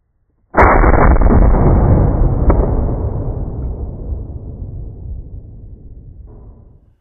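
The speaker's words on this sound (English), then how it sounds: "I was on high gas and I shot a slug round, but I want you to watch what happens" An IWI Tavor TS-12 shotgun on high gas fires a single slug round: one loud, close blast followed by a long, rolling echo that slowly fades over several seconds.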